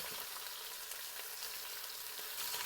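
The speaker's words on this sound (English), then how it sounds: "turn on the Instant Pot to the high temperature sear, add some avocado oil, and then when it's ready, go ahead and add the oxtail" Oxtail pieces sear in avocado oil inside an Instant Pot, giving a dense, continuous sizzle and crackle at a constant level, with no voices.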